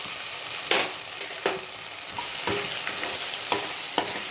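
Oil sizzles steadily in a pan with dried chillies, cashews and curry leaves while a spoon scrapes and stirs, with sharp scraping strokes at irregular intervals.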